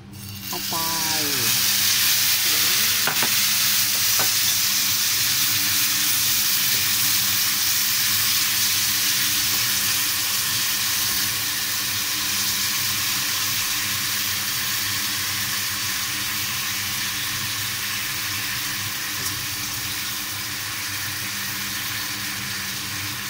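Liver dropped into a hot pan, bursting into a loud, steady sizzle that continues unbroken, with occasional stirring and scraping sounds and a brief voice near the start.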